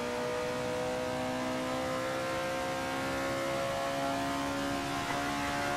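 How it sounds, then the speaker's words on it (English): Ford Capri race car in the Assetto Corsa racing game heard from outside, a steady sustained engine drone with strong harmonic whine holding a near-constant pitch throughout, loud and continuous with no voices. "So after this lap, I will jump out of this car and we will listen to the exterior."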